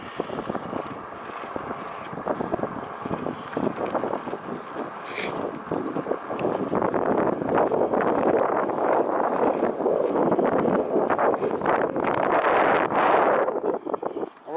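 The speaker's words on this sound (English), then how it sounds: "we should be able to pick up some kind of wind noise" Wind buffeting a Sony DSC-HX80 camera microphone outdoors on a breezy day, a constant rumbling roar with gusty flapping that grows heavier and louder in the second half.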